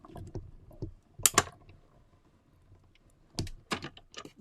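A paper sheet fed through a die cut machine for a snow globe shaker gift card holder, heard as a few sharp clicking, crunching bursts with quieter mechanical rattles between them, close and without talk.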